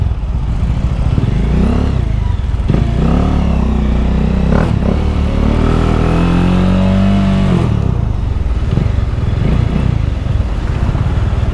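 A Bajaj Dominar 400 motorcycle engine idles steadily at low RPM, then revs up and back down in one smooth swell before settling again. The sound is close and continuous, with no talking.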